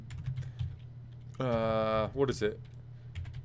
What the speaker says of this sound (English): I need to make my bets. Let me type into